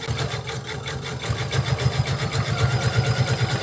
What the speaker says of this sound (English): I'm just going to sew all the way down.